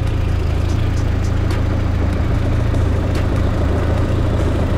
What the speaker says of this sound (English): We have both fans spinning at low speed.